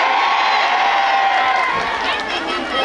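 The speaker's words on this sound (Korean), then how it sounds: "자, 우리 함성 한번 듣고 시작해 볼까요?" An outdoor concert crowd in Daejeon's Ppuri Park, gathered in the rain for a singer, cheers and shouts in a steady, dense roar of many voices that stays loud for the whole stretch.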